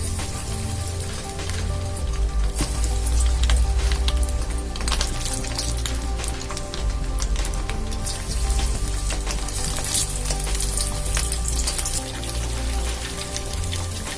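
Masala-marinated prawns deep fry in hot oil with a dense, continuous bubbling crackle that sounds like rain, loud and steady throughout with scattered pops and no talking.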